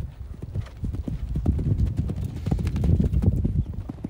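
Show-jumping horses' hooves clip-clop in a quick, continuous rhythm on the ground nearby, with faint voices in the background.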